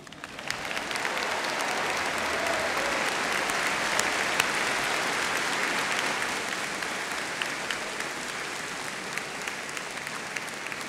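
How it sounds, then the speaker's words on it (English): A large commencement crowd applauds steadily, the dense clapping swelling in after a second and holding at an even level for about ten seconds. "Now would be an appropriate time to applaud."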